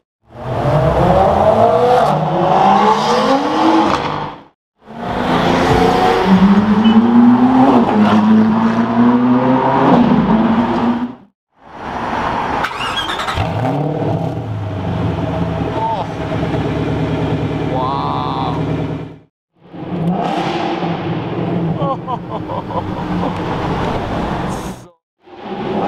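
Straight-piped Ford GT sports car revving hard in repeated loud bursts with sharp pauses between, close by, with people talking and reacting over the engine noise.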